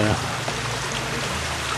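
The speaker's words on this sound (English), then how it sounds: "I got a shot here of the creek itself running fairly well" A creek runs fairly fast near a small waterfall where prospectors work, giving a steady splashing wash of water; a brief voice fragment opens the clip.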